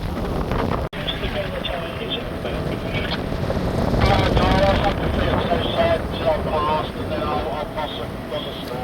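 A pilot boat passes at sea in the English Channel off the Suffolk and Essex coast, its engine a steady broad rumble swelling toward the middle, mixed with heavy wind buffeting the microphone.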